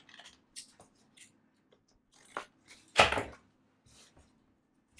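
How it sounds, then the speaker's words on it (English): A few sharp scissor snips and crisp cuts trimming paper for a junk journal postcard, close and fairly quiet, spaced irregularly with short silences between, with no talking. "use my scissors to trim this off"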